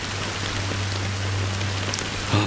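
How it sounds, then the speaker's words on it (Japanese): Steady rain pours in a Honkai: Star Rail game scene, a dense even hiss of drops with a low constant hum beneath and a brief louder splash near the end. "雨はまだ止んでいない。"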